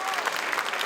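A brief burst of audience applause for a singer at an event on indigenous peoples in large cities, a soft, dense patter of many hands at moderate distance.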